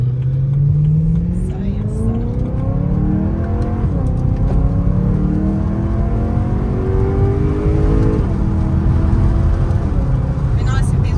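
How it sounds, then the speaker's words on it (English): A BMW E92 M3 accelerates hard in first gear on a wet road, its engine note climbing in rising sweeps from inside the cabin, with people talking over the loud, continuous revving. "Just watch out accelerating in first, because it's a bit wet."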